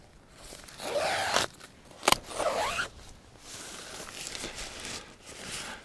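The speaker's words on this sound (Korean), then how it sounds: "지퍼도 꽤 부드럽게 열리고" A tent door zipper on a Zerogram El Chalten Pro four-season backpacking tent slides open smoothly in a few close, rasping pulls, with a short sharp click partway through and quieter handling after.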